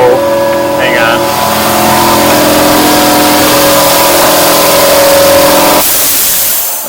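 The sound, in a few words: air compressor running in the shop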